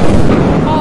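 Explosion in the video game Lethal Company, a loud, dense booming burst that fills the whole short moment at close range.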